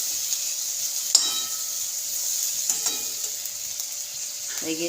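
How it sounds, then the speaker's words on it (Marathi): Mixed vegetables sautéing in butter in a pan, a steady close sizzle throughout with a few scraping stirs of a spoon against the pan. "आपण हे सर्व भाज्या बटरवर परतून घ्यायच्या आहेत"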